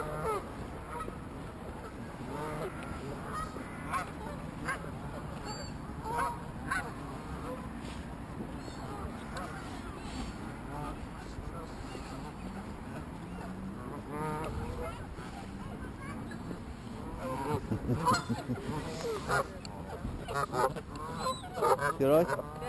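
Geese honk in a flock outdoors, their calls scattered and moderately distant over steady background noise, with people talking now and then.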